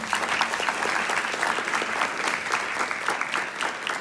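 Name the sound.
audience applause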